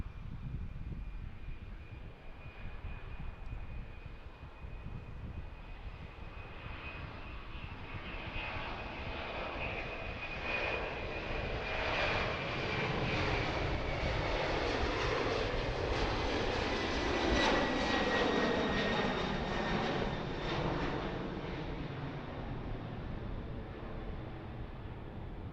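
A FedEx heavy cargo jet taking off in the evening at Harrisburg, a continuous jet engine roar with a high whine that swells toward a peak and then eases slightly as the aircraft climbs away.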